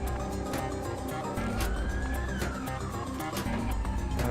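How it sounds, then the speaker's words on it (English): A police car siren wails faintly in the distance, one slow rising and falling tone drifting under a dense, noisy background of traffic and room clatter. "The funny thing is you hear these police sirens, but you never see the car itself."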